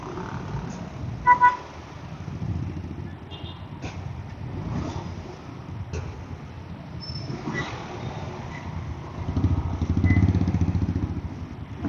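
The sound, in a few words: street traffic with car horns honking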